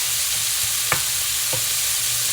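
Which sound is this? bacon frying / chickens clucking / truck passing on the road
bacon frying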